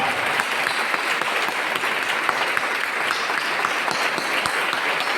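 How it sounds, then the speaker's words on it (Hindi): Audience applause for the parents attending a GMC-PTA interface meet, a dense, steady wave of clapping from a large crowd that holds loud and even throughout. "Let's have a big round of applause for all those parents who are present here."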